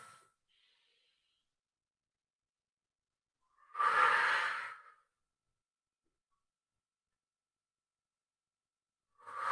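Deep yoga breathing, a single long breath of about a second standing alone in quiet, with faint edges of other breaths at the start and end.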